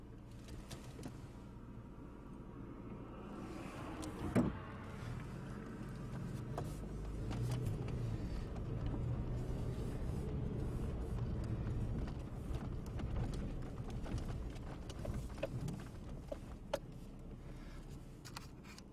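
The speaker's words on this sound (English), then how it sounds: "there's cars coming." Cars passing on a road near woods, picked up outdoors: a steady low rumble of traffic swelling and fading over several seconds, with scattered clicks and knocks, fairly faint.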